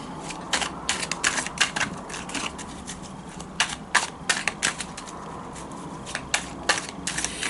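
Tarot cards are shuffled and a card drawn, a close run of rapid papery flicks and riffles in uneven bursts, with no voices over them.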